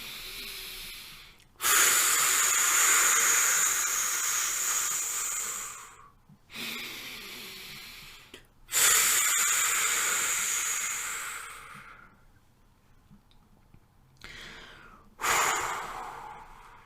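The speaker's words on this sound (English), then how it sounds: "please join me in taking 3 deep cleansing breaths." Three slow, deep breaths are taken during a guided relaxation, each a long airy inhale and exhale with a breathy hiss, separated by short quiet pauses and heard close and alone.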